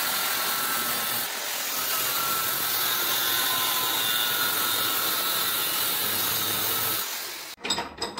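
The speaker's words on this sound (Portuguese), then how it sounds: "Eu vou cortar fora um pedaço aqui pra fazer a contrapólica" A steady, loud grinding whine runs for about seven seconds as a piece of metal is cut off in a home workshop, then stops abruptly, followed by a few short knocks.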